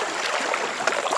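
A fast-moving river current rushes and gurgles close by, a dense continuous wash of water with no voices.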